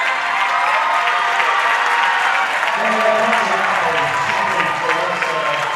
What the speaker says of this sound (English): nice crowd response